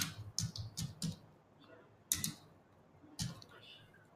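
A computer keyboard tapped in a few short bursts of keystrokes with pauses between them, close and fairly quiet in an otherwise still room.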